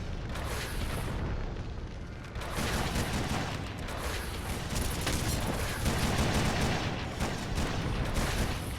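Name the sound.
barrage of rockets exploding in a video game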